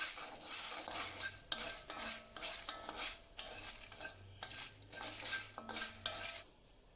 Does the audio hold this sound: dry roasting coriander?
yes